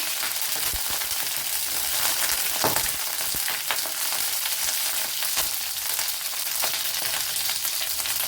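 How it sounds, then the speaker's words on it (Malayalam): Loud, continuous sizzling with sharp spluttering pops crackles from a hot steel pan after cold water is added while cooking ivy gourd, close and steady throughout. "സ്റ്റീൽ പാത്രമായതുകൊണ്ട് ഭയങ്കര പൊട്ടലാണ്"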